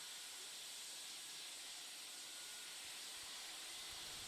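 Steam hissing from a locomotive's open cylinder cocks in the Manx Virtual Railway game, a steady broad hiss holding at an even level throughout.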